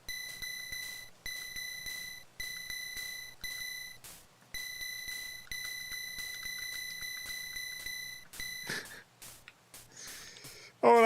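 A bell sound from the Game Boy Color game Arthur's Absolutely Fun Day, heard as a bright electronic chime that rings in short repeated bursts, fairly quiet, before a few sharper game blips at the end.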